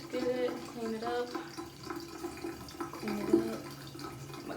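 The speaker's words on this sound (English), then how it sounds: "I don't hear the water running sometimes" Tap water runs into a bathroom sink in a steady wash, with a voice talking over it throughout.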